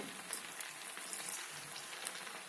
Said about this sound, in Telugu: మనం దీనికి డీప్ ఫ్రైకి సరిపడా నూనె పోసుకొని వేడైన తర్వాత ఈ చికెన్ పకోడా ఏదైతే మ్యారినేట్ చేసుకున్నామో అది ఇందులో వేసుకోవాలండి